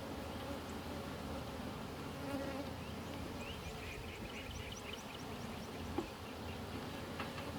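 Honey bees buzzing around an opened hive during an inspection, a continuous soft swarm drone with individual bees zipping past close by, fairly quiet overall.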